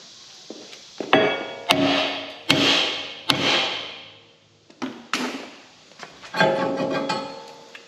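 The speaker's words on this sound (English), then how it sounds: "We're just going to go ahead and give the rotor a little love tap here." Hammer blows strike a seized rear brake rotor on a Mazda with electronic parking brakes, about eight sharp metallic knocks in an irregular rhythm, each ringing briefly, close and fairly loud with no voices.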